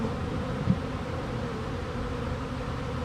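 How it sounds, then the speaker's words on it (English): Honeybees, many of them drones, drone steadily around a screened beehive box set on the ground, a dense continuous buzz with no voices. "some of the bees in there, just couldn't figure out where to go, but a bunch of them are drones"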